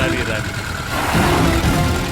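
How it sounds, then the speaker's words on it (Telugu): An auto rickshaw engine approaches, rising from a steady mid-range drone to a louder, closer rumble over about two seconds, with no voice in the clip. "అన్నా, ఒక ఆటో వస్తుంది."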